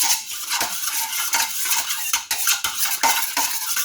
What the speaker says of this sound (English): We're just going to mix that in until it becomes cloudy.